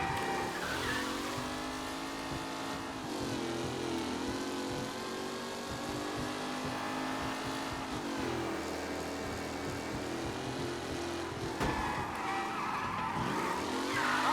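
Race cars in Mafia: Definitive Edition skid and squeal their tyres through a race, with engines revving and sliding continuously and loudly, no voices heard.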